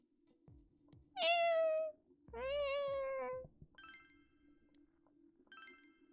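Two drawn-out cat meows in quick succession from a cat in the video game Persona, clear and close, followed by faint high chiming tones over a steady low hum.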